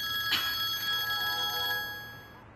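A telephone rings on, unanswered, at moderate distance: a bright electronic ring that begins with a sharp burst and then holds as a steady tone before fading out.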